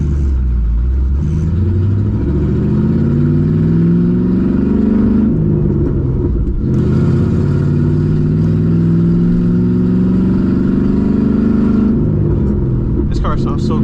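A 2007 Ford Mustang GT with new modifications, driven on a rainy day, revs in a loud, steady drone whose engine pitch sweeps up and down repeatedly, heard up close from inside the car.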